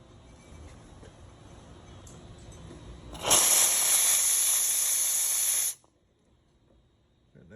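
A Rocket Appartamento espresso machine's steam wand, freshly serviced with a new pump, releases a loud, bright, steady hiss of steam for about two and a half seconds, then cuts off abruptly into quiet.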